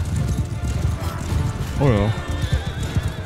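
Horse neighing in Mount & Blade II: Bannerlord during a battle: a clear whinny rises and falls near the middle, over a busy bed of galloping hooves and combat clatter, with someone talking briefly.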